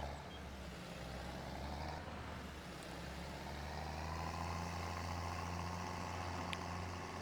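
A tractor's engine rumbles steadily at low volume while driving away on a farm, a continuous mechanical drone with no voices over it.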